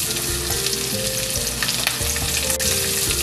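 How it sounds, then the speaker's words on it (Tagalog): Ginger sautés in hot oil in a pan, giving a loud, continuous close sizzle and frying crackle with occasional stirring scrapes, as the base for Bicol Express. "Sinod ko itong luya."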